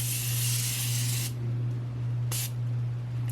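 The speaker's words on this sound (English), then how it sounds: "I'm going to give my face a spritz with the Morphe Continuous Prep and Set Mist" An aerosol can of Morphe Continuous Prep and Set Mist sprays setting mist onto a face in a steady hiss lasting over a second, followed by a second short burst, close and loud over a low constant hum.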